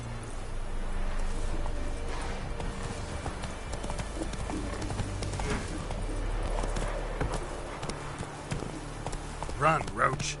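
A horse gallops in The Witcher 3, played on a PS5, its steady hoofbeats thudding close over continuous game ambience, with someone talking over it.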